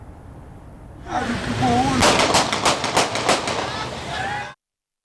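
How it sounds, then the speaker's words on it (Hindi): Aerial gunfire by lawyers at a hospital, a rapid burst of about eight sharp shots in a row over loud background noise and shouting, ending abruptly. "फायरिंग की फुटेज आज न्यूज़ ने हासिल कर ली।"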